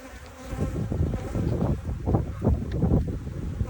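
Honey bees at a hive make a close, fluttering buzz with wind rumbling against the microphone, and the buzz comes in uneven pulses.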